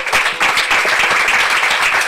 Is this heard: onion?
no